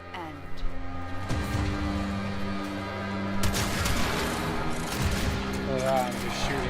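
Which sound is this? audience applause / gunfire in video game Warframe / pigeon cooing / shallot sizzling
gunfire in video game Warframe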